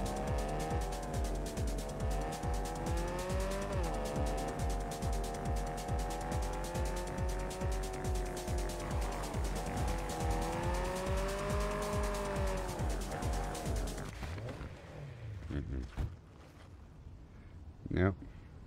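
A motorcycle ridden in the video game Cyberpunk 2077 through Night City, a steady, loud engine drone that rises and falls in pitch for most of the stretch before fading out, with a voice talking over it.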